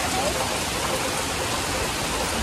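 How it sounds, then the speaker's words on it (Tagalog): Heavy rain pours down steadily in rural Occidental Mindoro, Philippines, as a dense, constant roar of water, close and loud throughout. "Lakas ng ulan."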